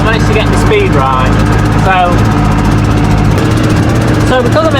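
A tractor engine runs steadily at close range, a constant low mechanical drone during grass work in a hay field, with a voice speaking over it.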